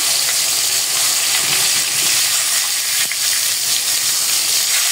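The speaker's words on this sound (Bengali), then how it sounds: "এই যে আমি এখানে মাছ ভাজতে দিয়ে দিচ্ছি" Catla fish fries in a pan with a loud, dense, continuous sizzle and crackle close up, steady throughout with no talking.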